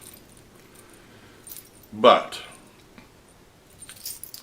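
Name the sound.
set of vending machine keys jangling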